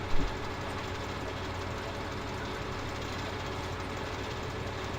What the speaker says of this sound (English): tractor and trailer again, just as we're getting near the end of the road